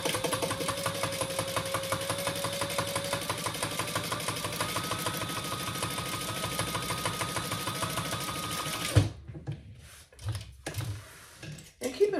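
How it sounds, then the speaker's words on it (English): A sewing machine top stitches the long edge of a bonded nylon tote, running close and steady with a fast even chatter for about nine seconds before stopping, followed by light handling noises. "let's top stitch down each long edge"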